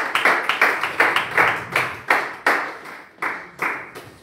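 Sharp, close handclaps from a church congregation praising the Lord ring out in a brisk, uneven rhythm, about a dozen strong claps in quick succession with no voices over them.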